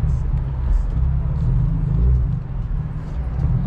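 Modified BMW M4 F82 creeping up a steep driveway, a steady deep engine rumble with low exhaust drone throughout, close and fairly loud with slight swells as it climbs.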